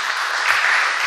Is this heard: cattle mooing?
no